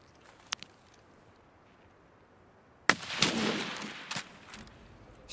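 Gunfire in Escape From Tarkov in a wooded area: a couple of faint distant cracks, then after a quiet stretch a loud close shot followed by a noisy rumbling burst and a few scattered reports.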